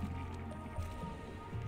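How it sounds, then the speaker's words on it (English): Water bubbles in the video game Oxygen Not Included with soft, squishy gurgles and drips that stay quiet and close for under two seconds. "What is bubbling here? Oh, that water."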